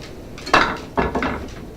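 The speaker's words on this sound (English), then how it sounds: "I'm gonna go ahead and dump my onions and peppers in there and let that finish cooking together" Onions and peppers dumped into a hot pan while cooking wild hog pork fajitas: two distinct clattering, sizzling impacts close by, each trailing off, with no talking.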